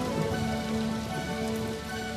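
Steady rain falls on a surface as backing for a children's rain dance performance at a school event, a dense continuous patter filling the space with no voices.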